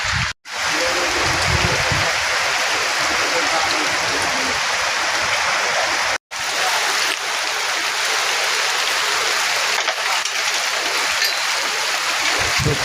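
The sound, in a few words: heavy rain during a storm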